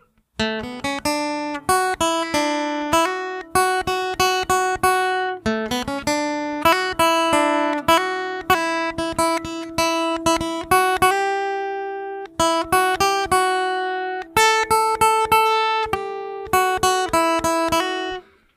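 A guitar picks out a melody one note at a time, steady plucked notes with brief pauses between phrases, close and clear with no voices.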